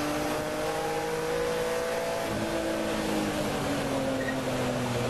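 BMW touring race car heard on board at a US touring car championship, its engine climbing in pitch under acceleration after braking, loud and continuous throughout with no talk.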